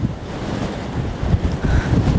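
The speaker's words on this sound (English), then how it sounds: "That's the ocean." Ocean surf on the coast of Crete rushes steadily under strong wind buffeting the microphone during a hillside hike, with no voices.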